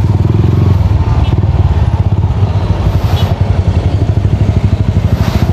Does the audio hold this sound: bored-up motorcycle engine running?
yes